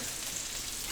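Onions fry in a pan with a steady close sizzle and faint stirring, a short continuous hiss without talk.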